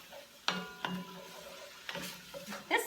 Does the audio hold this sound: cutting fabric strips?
no